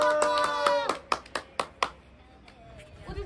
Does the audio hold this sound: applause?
yes